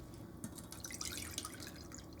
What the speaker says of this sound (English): So I'm just straining this to catch the seeds.